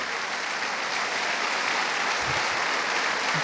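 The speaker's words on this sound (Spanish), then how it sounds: "Más fuerte ese aplauso." A church congregation applauds during a sermon on faith, a dense, even wash of clapping that holds steady for the whole stretch, with no speech over it.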